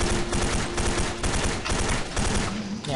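Continuous automatic fire from an Aurora K2 rifle in Special Force 2, a loud, rapid string of shots with short gaps between bursts.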